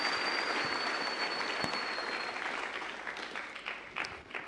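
A church congregation applauds during a sermon with thick, continuous clapping that stays full for several seconds and then thins slightly toward the end.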